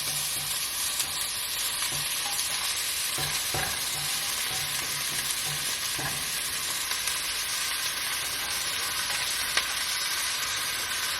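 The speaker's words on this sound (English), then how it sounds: "let those veggies cook, let that meat finish browning" Ground meat with onion, garlic and peppers frying in a pan, making a loud, steady sizzle that runs unbroken throughout, with occasional spatula scrapes and taps, close up and free of speech.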